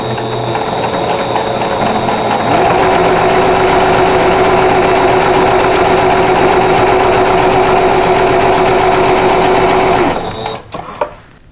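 A sewing machine stitching quilt block pieces, a fast steady mechanical whir and chatter running for about ten seconds before stopping, followed by light handling noises.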